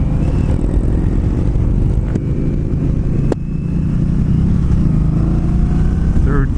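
An Indian Scout motorcycle engine drones steadily and loud while riding, with wind buffeting over it and the pitch climbing a bit near the end.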